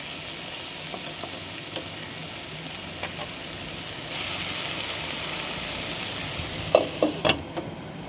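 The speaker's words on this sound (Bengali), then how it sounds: "ওইভাবেই সবজিগুলোকে 2 থেকে 4 মিনিট ভালো করে ভেজে নেব" Vegetables frying in a pan hiss and crackle steadily up close, with a few sharp scraping and stirring knocks near the end.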